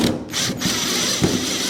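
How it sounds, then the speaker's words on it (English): A power drill runs steadily, driving screws through the outer hull of a large test boat, a continuous close whirring with brief dips and surges in load. "I'm going to screw these right through the outside of the boat, through the hull"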